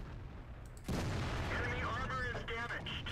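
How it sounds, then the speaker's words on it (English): Artillery fire in the tank battle game World of Tanks hits as a sudden heavy boom after a quiet start, then a sustained rumbling roar follows while a voice talks over it. "I got a little help from the artillery"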